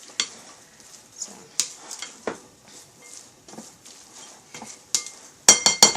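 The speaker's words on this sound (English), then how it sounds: "And while I'm stirring it, I'm going to cover it up for a little bit" Pork and beef, including pork luncheon meat, stirred in a cooking pot, giving a run of light, irregular scrapes and clinks of a utensil against the pot, with a sharper cluster of clatters at the end.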